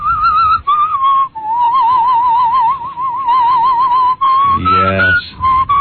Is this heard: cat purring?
no